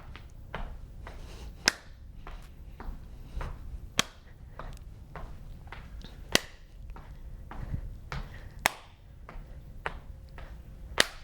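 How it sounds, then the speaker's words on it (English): Sharp hand claps land about every two to two and a half seconds during an indoor step-together walking workout, each clap crisp and fairly close over soft shuffling footsteps and faint background noise. "Step together and clap."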